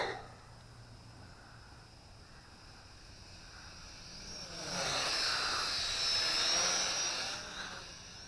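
An MJX RC X400 quadcopter drone returning from the far end of a soccer field, its faint buzzing whine swelling louder as it nears, then easing slightly at the close.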